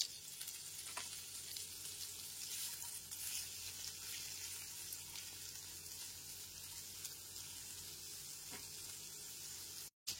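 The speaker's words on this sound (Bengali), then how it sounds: "পেঁয়াজ কুচিটা হালকা করে ভেজে নেবার পর এর মধ্যে গাজর কুচি আর বিনস কুচিগুলো দিয়ে দিলাম।" Chopped carrots and beans fry with onions in a pan, giving a faint, steady crackling sizzle that runs evenly throughout with a few soft clicks, then cuts out briefly near the end.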